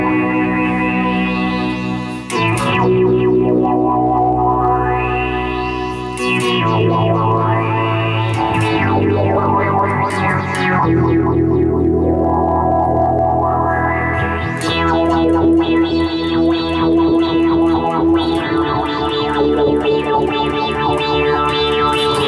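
An electric guitar plays through a modelling amp set to a synth-type effect, giving loud sustained notes with rising filter sweeps, chorus and echo in a continuous phrase, with no talking.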